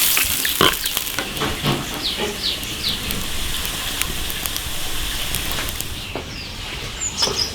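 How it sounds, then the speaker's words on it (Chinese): Beef bones stir-frying in an iron wok with ginger and cooking wine, a dense crackling sizzle with scattered sharp pops and scrapes, close and continuous. "生姜、料酒炒个血水"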